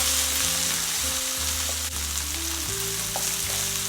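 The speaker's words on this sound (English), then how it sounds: "put it here in the center. And just move it around to lightly kind of stir fry it in the pan with the oil" Black bean paste for jajangmyeon stir-fries in hot oil in a pan with a loud, close, continuous sizzle and occasional scrapes as it is moved around. No one talks, though a faint music bed runs underneath.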